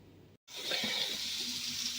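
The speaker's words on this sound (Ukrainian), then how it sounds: "Спагеті мої стікають" Rinsed spaghetti drains in a colander after a cold-water wash, with a steady close hiss of running, trickling water that swells after a brief cut and continues evenly.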